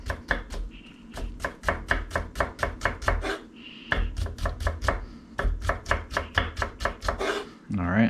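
A knife chops finely through a banana shallot on a cutting board in quick, even strokes, two close bursts of sharp rhythmic taps split by a short pause, loud and near with no talking.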